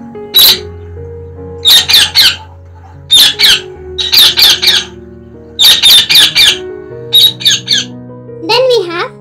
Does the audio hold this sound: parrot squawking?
yes